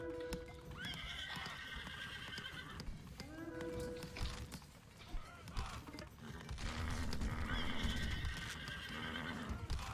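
In a real-time strategy video game, an ox lets out drawn-out dying groans and bellows over busy battle noise, clicking hooves and clattering effects, repeating in two longer bursts.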